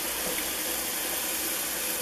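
Water runs from a kitchen tap during home cooking, a steady, even rushing hiss that fills the short stretch without pause or talk.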